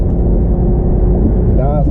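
A BMW 640i Gran Coupe pulls away smoothly, its engine a steady low hum under the cabin, with a faint rising tone near the end; someone talks over it throughout.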